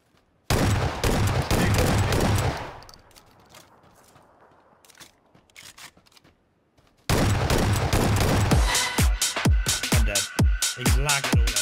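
Gunfire in PlayerUnknown's Battlegrounds: a loud sustained burst of shots, then a quieter lull, then another loud stretch of rapid repeated shots close by.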